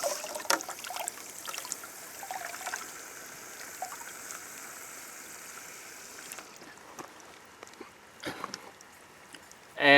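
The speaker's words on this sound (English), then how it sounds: "pour off your extract and then fill the bucket again" Liquid compost extract poured into a bucket, a soft continuous trickle and splash running steadily at close range, then thinning out toward the end.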